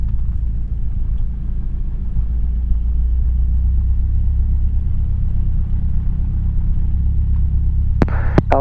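A small single-engine airplane's engine drones steadily in the cabin during a solo takeoff roll on runway 35, a loud, even low rumble that holds throughout, with a couple of sharp clicks near the end.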